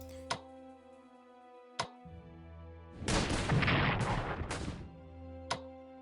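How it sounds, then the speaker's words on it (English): Artillery fire in the World War I strategy game Strategic Command, a dense rumbling barrage of booms swelling for a couple of seconds amid a few sharp isolated reports and a low steady hum. "Artillery's proving its effective anti-tank weapon"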